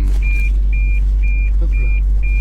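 Seatbelt warning chime in a Mazda MX-5 NC, a series of five clear electronic beeps at a steady rhythm over a constant low engine hum inside the cabin.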